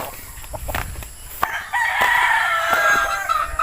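A yellow-legged hatch gamefowl rooster crows once, loud and close, in a backyard breeding setup, preceded by a few clucks and scattered bumps.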